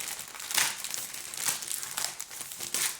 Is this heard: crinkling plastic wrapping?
yes